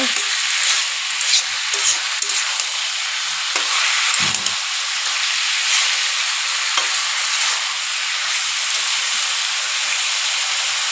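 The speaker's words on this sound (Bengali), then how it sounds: "মশলাটা দিয়ে ভালো করে নেড়ে চেড়ে কষিয়ে নেব।" Banana flower curry with spices being stir-fried in a pan, giving a steady, close sizzle with scraping stirs throughout and no talk.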